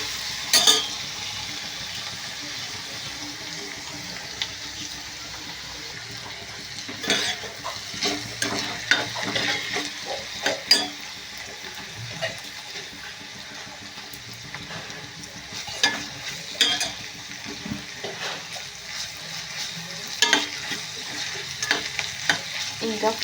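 Andhra-style egg bhurji frying in a pan, a continuous sizzle broken by repeated scraping and stirring strokes of a spatula, close and fairly loud, with no voices.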